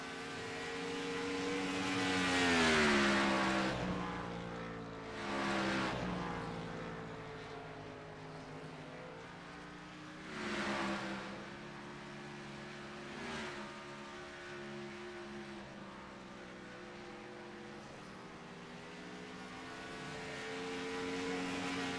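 Race cars in a FUEL Premier Series race roar past on lap after lap, engines swelling loudly and fading in repeated pass-bys over a steady background drone.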